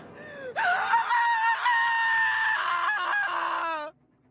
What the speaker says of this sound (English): that was a good scream